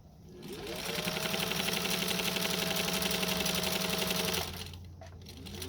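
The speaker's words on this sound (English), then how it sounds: "Holding your threads for the first couple of stitches." A Singer 15J (15-91) sewing machine stitches its first few stitches with threads held, giving a steady, close mechanical whir for about four seconds before it winds down and stops.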